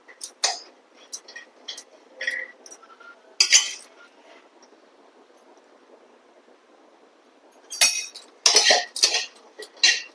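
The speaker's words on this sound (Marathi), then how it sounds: "यामध्ये मी अक्रोड टाकलाय आणि ते सुद्धा मी आता हे थोडं भाजून घेणार आहे" Walnuts dry-roasting in a pan for a homemade protein bar, giving scattered light clinks and scraping taps of a spoon against metal, with quieter stretches between bursts of stirring.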